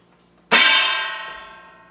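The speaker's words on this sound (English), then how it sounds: "This is a kind of colander that comes with a pot that you do pasta in." A single tap on top of an upturned metal pasta colander from a pasta pot rings out like a small gong, with a bright strike and a shimmering tone that fades over about a second and a half.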